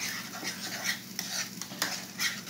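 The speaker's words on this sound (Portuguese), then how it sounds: "vamos colocar creme de leite, tá? E continuar mexendo" A spoon works through creamy scrambled eggs with added cream in a pan, producing soft, repeated stirring scrapes and light clinks roughly every half second over a faint sizzle, close by with no talk.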